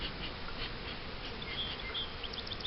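Agitated honey bees in a hive produce a dense, steady buzzing that holds at a constant level throughout, with no voices.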